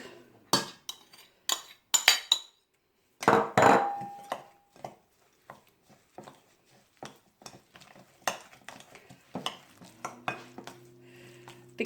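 A spoon clinks and scrapes against a bowl while chicken burger mixture is stirred with crushed chilies and black pepper, irregular close knocks and clatters separated by brief pauses.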